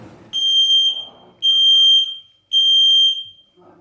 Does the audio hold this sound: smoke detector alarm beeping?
yes